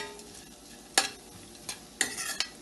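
Onions and turmeric frying for poha are stirred in a pan, a quiet sizzle punctuated by several sharp scraping strokes spaced irregularly across a few seconds.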